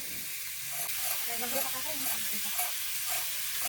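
Potatoes being stirred with turmeric and salt in a frying wok, with a steady oil sizzle and hiss under soft, intermittent scraping of the spoon against the pan.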